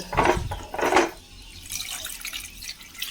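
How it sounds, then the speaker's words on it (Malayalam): Coconut milk poured into a pan for a home-style curry, a loud liquid splash in two short bursts, then a softer trickling and dripping that lingers quietly. "ശേഷം നമുക്ക് തേങ്ങാപ്പാൽ ഒഴിച്ച് കൊടുക്കാം"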